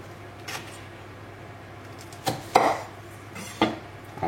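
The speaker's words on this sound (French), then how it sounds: "Et je vais m'occuper du piment. Je vais le couper, ça." Knife cutting a chili pepper in half on a board, a few sharp close knocks and scrapes spaced irregularly over quiet room tone.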